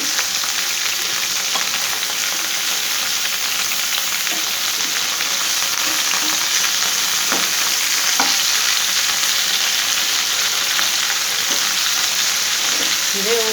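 Hilsa wrapped in gourd leaves fries in a pan for ilish paturi, giving a steady, close sizzle throughout with a few soft utensil clicks and no talking.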